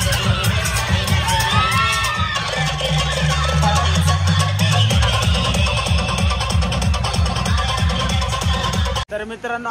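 Loud crowd at an outdoor Dahi Handi festival event, with sustained cheering and shouting from a dense audience throughout, children's voices among it, and scattered clapping, ending abruptly.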